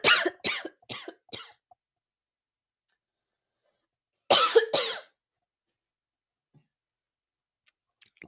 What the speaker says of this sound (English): I just had a coughing fit